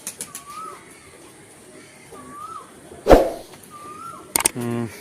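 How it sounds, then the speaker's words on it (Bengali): Female pigeons of an old domestic breed coo softly three times in a soft, rolling rhythm, broken by a sudden thump and a quick burst of wing flapping, with a faint voice near the end. "এবার তোমাদের কিছু মাদা পায়রা শখ করাবো"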